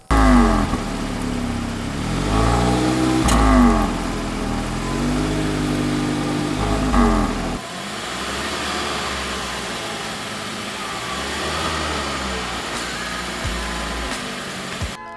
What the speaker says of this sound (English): this time listen to the engine.